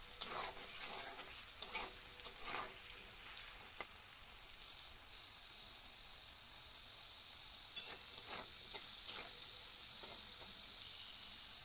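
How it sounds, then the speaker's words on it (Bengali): Potatoes frying lightly in oil in a pan for Bengali ghugni, a continuous soft sizzle with scattered spatters and occasional scraping bursts of stirring, no one speaking. "আলুগুলোকে 2 মিনিট মতো ভাজতে হবে। খুব বেশি কড়া করে ভাজলে হবে না, একটু হালকা করে 2 মিনিট ভাজতে হবে।"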